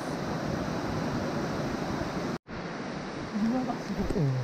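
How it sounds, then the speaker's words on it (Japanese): The Jataki waterfall on Mount Ikegoya roars as a steady, dense rush of falling water, close and loud, broken by a short cut, with a person's voice rising faintly over it near the end. "蛇滝です。"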